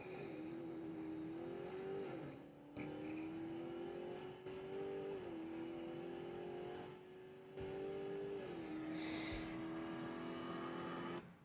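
Dodge Charger Scat Pack Daytona electric car with a synthetic chambered exhaust sound, holding a steady droning tone that rises in several rev-like steps, loud and close with no talk.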